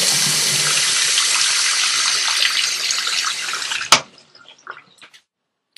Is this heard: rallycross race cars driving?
no